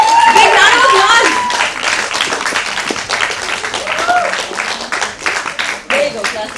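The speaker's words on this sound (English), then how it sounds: "Big round of applause." Audience clapping at a Women's Day comedy show, loud and uneven with individual hand claps standing out, while voices and cheers rise over it in the crowd.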